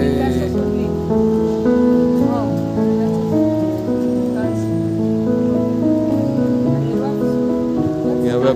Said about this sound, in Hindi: बारिश बहुत ज़्यादा हो ही रही है, तब से होती जा रही है बारिश।